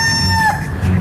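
A chicken gives a sustained, tonal call, close and fairly loud, with steady background noise and no talk.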